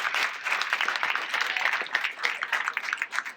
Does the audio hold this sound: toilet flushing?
no